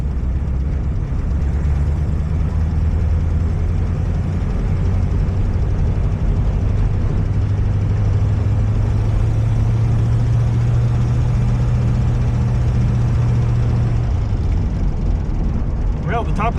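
A 1937 Buick Century's engine runs steadily as the car drives, a low continuous drone that rises slightly in pitch partway through, with road rumble and occasional voices inside the cabin.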